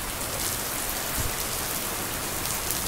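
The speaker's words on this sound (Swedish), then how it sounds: "Ska vi lyssna på när det regnar." Steady, dense rain hiss from the Blanket sound app plays continuously, loud and even like a downpour on a surface, with no talking over it.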